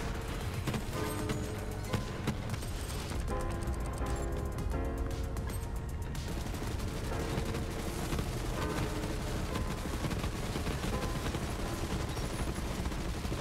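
Dense, continuous automatic fire from the La Varlope rocket-launching assault rifle in Borderlands 3, played as Moze on Mayhem 10, with rapid bursts and booming rocket impacts layered over game music at a steady loud level.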